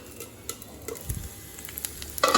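Coriander and other ingredients for a spicy kaara chutney sautéing in a pan, a soft crackling sizzle with a few stirring scrapes, quiet and close, ending in a slightly louder burst.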